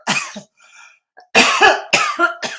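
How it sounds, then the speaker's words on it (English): A person coughs several times on a stream, harsh close bursts in two clusters separated by a short quiet gap with faint background sounds. "it's my turn to cough now"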